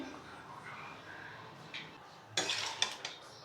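A spoon scrapes and clinks against a pan while carrot pickle is stirred together with half a bowl of vinegar. Soft, close metallic taps and scrapes sit over a quiet background, with a burst of sharper clatter near the end.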